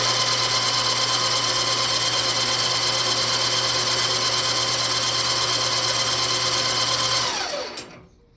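A ShopFox M1049 metal lathe spinning at its top speed of about 2,000 RPM gives a loud, steady whine with a constant hum, then winds down and stops near the end.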